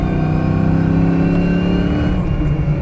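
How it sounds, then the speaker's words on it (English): A loud, throaty 5.0 V8 engine of a 1993 Ford Mustang LX coupe revving with a deep, rumbling aftermarket exhaust, sustained and close by. "Has a really good exhaust note to it as well."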